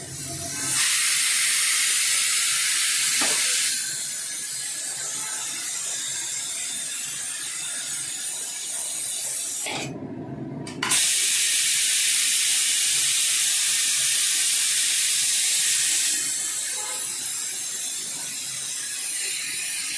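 A pressure cooker on a medium flame cooking mutton lets out a loud, steady steam hiss, cutting off for a moment and then resuming, with mechanical rattling throughout and no talking.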